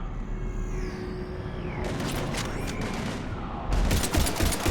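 Bursts of gunfire in a Mass Effect 3 battle against husks rattle out in two loud stretches, around the two-second mark and again near the end, over a steady rumbling game background without talk.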